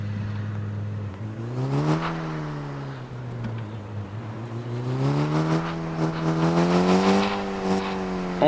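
A car pulls away and accelerates steadily, its engine note rising in pitch through gear changes, close and loud, with no talking.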